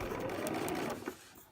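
A sewing machine running steadily as it stitches the 5/8-inch seam of a spring coat, a close continuous mechanical whir that eases off near the end with a faint tap or two.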